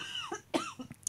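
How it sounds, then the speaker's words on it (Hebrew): A woman coughs a few times in short, sharp bursts, with a throat-clearing sound mixed in, close and fairly quiet. "למה את משתעלת?"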